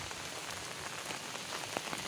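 Steady rain falling outdoors during days of continuous monsoon downpour in Rourkela, a dense even hiss of drops on surfaces with a few slightly louder nearby splashes, no voices.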